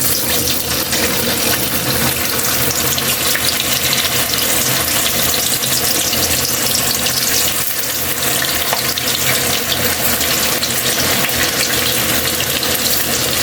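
Tofu fries in hot cooking oil, a dense, steady sizzle and crackle that fills the whole stretch without letting up, loud and close with no talking.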